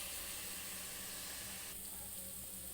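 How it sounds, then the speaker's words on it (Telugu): Gongura sorrel leaves going into a pan of cooking chicken, a continuous quiet hiss and sizzle that drops slightly in brightness partway through, with no voices. "ఇప్పుడు గోంగూర వేసుకున్నామండి."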